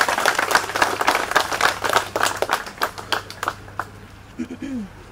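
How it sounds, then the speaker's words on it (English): An audience claps at a street dedication ceremony, a lively burst of many hands that thins into scattered claps and fades out, with a brief voice near the end. "Give her a hand clap."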